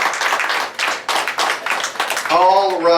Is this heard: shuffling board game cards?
no